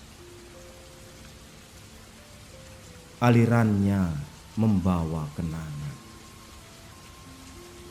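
Rain falls steadily in Paris as a soft, continuous hiss in the background, with someone speaking over it in the middle of the clip.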